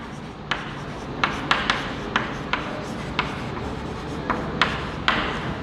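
Chalk or marker strokes on a classroom board during a physics lesson, a steady scratchy rubbing broken by about a dozen sharp taps and short strokes, close and fairly loud with no talking.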